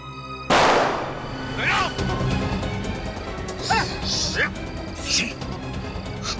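One sharp, loud gunshot crack at the start, fired at a police officer in a TV crime drama, followed by echoing rumble and excited voices talking over the aftermath.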